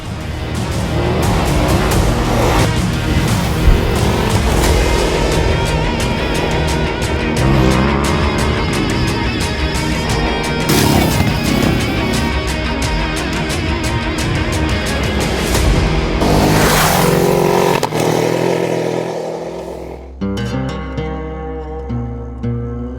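A Ducati DesertX motorcycle rides a rocky, sandy desert track, its engine loud and close throughout with rising and falling revs, then drops to a low idle near the end.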